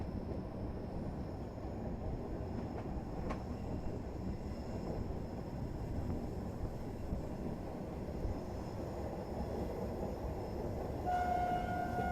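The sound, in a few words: passenger train running through a curve after Barsoi station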